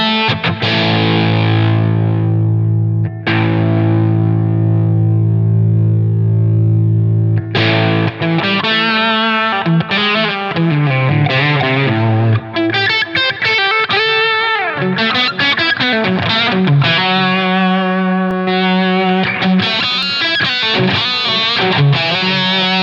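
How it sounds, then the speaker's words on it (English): An electric guitar played through the Ratatouille distortion model on a Line 6 Helix, gain raised, rings out held chords and then busier riffs with a cutting, saturated distorted tone, loud and close with no talking. "this starts to change pretty fast and get a lot of cutting distortion"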